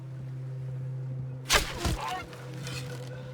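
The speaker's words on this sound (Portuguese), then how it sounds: "O lado bom do pântano é que aqui tem diversos tipos de aves." Swamp birds in the Red Dead video game give a loud honking call, a couple of harsh squawks over a steady low hum of ambience.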